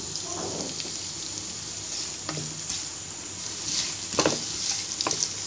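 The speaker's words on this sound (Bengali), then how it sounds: "পেঁয়াজটাকে ব্রাউন কালার করে ভেজে নিব" Chopped onions, about a cup, frying in hot oil in a wok until browning, a steady close sizzle with occasional spatula stirs and scrapes, no voices.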